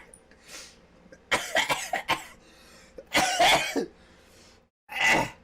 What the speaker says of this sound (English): I just coughed Rockstar Energy drink all over myself.